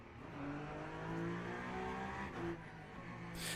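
Peugeot race car engine in the Le Mans Ultimate racing game, a steady droning tone that shifts slightly in pitch, heard faint and alone.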